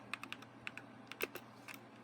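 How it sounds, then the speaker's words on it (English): Faint, quick keystrokes on a computer keyboard enter commands in short bursts, light clicks with a slightly heavier press near the middle, over a low steady background hum. "Now here I want you to type 3 commands and hit enter."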